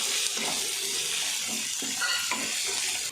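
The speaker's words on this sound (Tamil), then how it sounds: "வெங்காயம் வந்து நல்லா சீக்கிரம் வதங்கிடும்." Sliced onions sizzle and fry in hot oil for a curry leaf chicken gravy, a steady close-up hiss with soft periodic scrapes of stirring.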